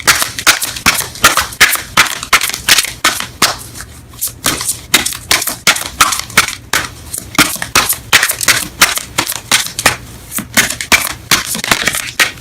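Romance Angels oracle cards riffled and shuffled close up in a steady run of quick crisp clatters, with brief pauses between bursts, no voices.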